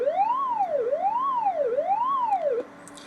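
A choppy synth tone from Pocketband Pro with increased cycles sweeps up and down in a steady wailing, siren-like pattern three times, loud and alone, then cuts off abruptly near the end.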